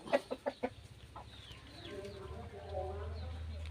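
Several short clucks up close from a fighting-cock breeding rooster, followed by softer bird calls over a low background hum and faint voices.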